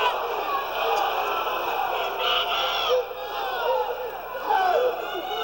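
A crowd at a pro boxing bout between Roberto Gomez and Tony Valdez chants for Tony, rising and falling in loud rhythmic waves of massed voices that fill the arena.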